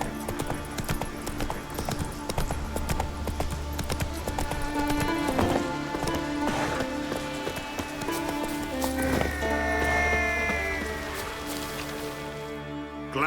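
Horse hooves galloping at a steady clip-clop in The Witcher 3 video game, running continuously and fairly close alongside layered game ambience and music.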